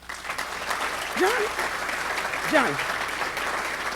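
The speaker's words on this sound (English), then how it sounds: "let's give her a round of applause" Audience applause for an award recipient at a gala, a steady wash of clapping under a speaking voice that rises twice briefly over it.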